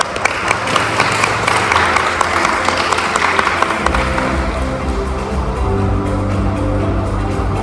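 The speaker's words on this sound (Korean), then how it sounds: "큰 박수로 받아주시기 바랍니다." An audience at a Kia EV3 tech day presentation claps loudly and densely for the next presenter, the applause thinning after a few seconds into a low room hum.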